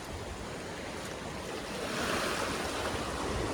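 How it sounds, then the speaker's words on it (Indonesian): Sea waves break and wash in a steady rushing roar, swelling toward the end, heard from in the water under a beach bridge at Alfa Momong beach. "jadi ombaknya itu bisa pecah ya"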